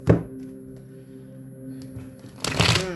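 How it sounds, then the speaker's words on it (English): Crisp riffling and flicking of tarot cards being shuffled, with short bursts at the start and end over a faint low hum. "Listen, I'm shuffling, right?"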